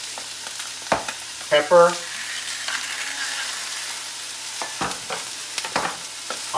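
Scallops searing in a hot pan give a continuous hissing sizzle throughout, punctuated by a few sharp clinks and utensil taps, with a brief spoken word over it.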